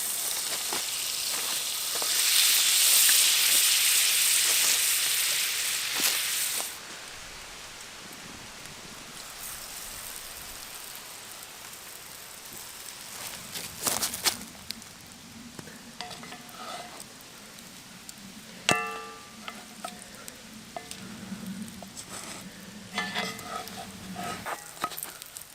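Butter in a pan over a campfire: an initial loud hiss and crackle fades to low sizzling, with scattered clinks and scraping of cooking utensils nearby.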